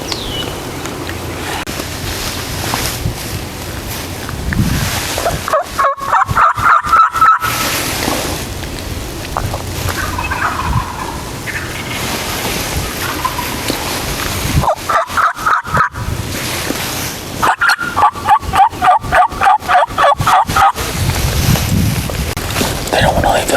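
A group of six or seven wild turkey toms gobbles in rough, rattling bursts during a stormy spring hunt. Several rounds of calls come through gusty wind noise.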